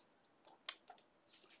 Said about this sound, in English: these are the scissors